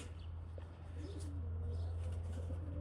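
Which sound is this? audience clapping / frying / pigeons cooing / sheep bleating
pigeons cooing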